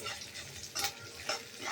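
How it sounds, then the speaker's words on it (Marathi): Ground masala of garlic, coconut, sesame and peanut powder roasting in oil in a pan, with a soft steady sizzle and a couple of brief scraping stirs. "हा पण भाजून घ्यायचं चांगलं तेलात"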